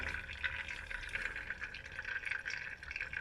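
Faint trickle of dark brake fluid draining steadily into a bottle while bleeding the brakes on a Range Rover L322, a soft continuous gurgle close by with no voices.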